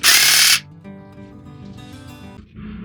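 A Towallmark 20V cordless 22-inch hedge trimmer rated at 2600 RPM runs with a loud, buzzing burst of its blades for about half a second, then drops to a softer mechanical hum.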